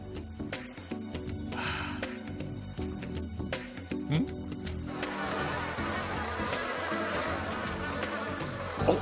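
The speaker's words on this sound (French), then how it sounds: "Allez, ousse les abeilles." Cartoon bees buzz around a Donkey Kong animated character, a continuous insect drone over music with brief sharp effects, the swarm sound thickening and growing denser midway through.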